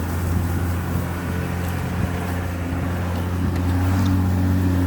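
A one-owner Jeep that recently needed a fuel pump drones steadily from the cabin while driving, a loud continuous low engine hum with road and wind rumble throughout and no talk.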